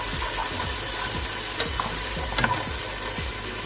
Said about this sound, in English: so I'm going to put in my dollop of garlic, and the white part of the spring onion only.